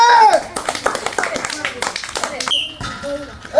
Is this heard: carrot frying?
no